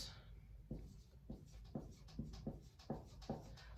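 A pen scratches out a calculation on paper in close, quiet strokes, a series of short irregular scrapes and taps separated by small pauses.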